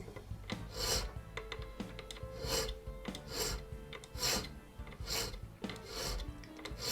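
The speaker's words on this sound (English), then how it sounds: "we file the end flat" Hand file rasping across the end of a small taper pin held in a pin vise during restoration of an 1837 French Napoleon mantle clock by Japy Freres, a series of repeated close strokes, each a short scratchy burst.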